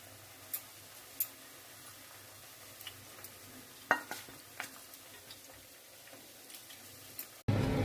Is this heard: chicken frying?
yes